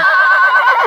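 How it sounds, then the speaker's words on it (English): Max the Dream, a racehorse, lets out a single loud, close whinny lasting under a second, its wavering pitch dropping at the end. "this week's horse of the week's a horse called Max the Dream"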